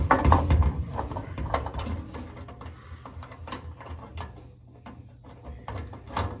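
A 1/2 inch socket and driver ratchets in short clicking bursts while tightening a bolt on a makeshift exhaust hanger under a vehicle, close and fairly quiet with small metallic knocks between.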